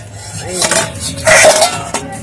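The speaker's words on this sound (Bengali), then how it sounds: "এবার ঢাকনাটা আমি খুলে নেবো" A metal lid is lifted off a pan cooking pitha, giving a few clinks and scrapes with a bright ringing clatter in the middle, close by, while a voice talks over it.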